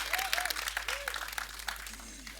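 Audience applause at a TV series launch event, a quick, moderate burst of clapping heard at a distance, with a few voices calling out over it.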